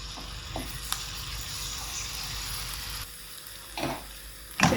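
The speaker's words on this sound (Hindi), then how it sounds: "इसमें अदरक लहसुन का पेस्ट डाल दूंगी, इसको थोड़ा सा भून लेंगे।" Ginger garlic paste sizzles and fries in hot oil in a wok, a steady crackling hiss with a few louder bursts and stirring scrapes near the end, no voices.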